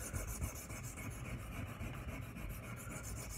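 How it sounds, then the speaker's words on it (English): A knife blade rubs back and forth on a sharpening stone in a steady, even rhythm of gritty strokes, close and fairly quiet, with no talking. "while I'm sharpening, once I get to the belly, I'll just ever so slightly raise it"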